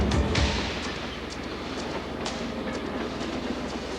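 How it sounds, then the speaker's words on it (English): A runaway freight train rolling down the track, giving a steady loud rumble with faint rhythmic clickety-clack of wheels over rail joints and no voices. "The runaway train had already rolled another mile down the track."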